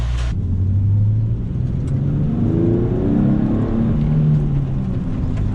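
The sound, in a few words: sports car engine revving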